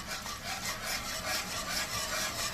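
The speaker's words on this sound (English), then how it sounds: "so we're just going to keep whisking this" A whisk scrapes rhythmically through pan liquid for a slow cooker pot roast, a soft, steady, repeated swishing stroke heard close up without speech.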